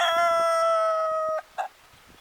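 An Ayam Ketawa laughing-chicken rooster gives one long, loud, sustained crow near the microphone that cuts off abruptly, followed by a brief squawk and quiet farmyard background.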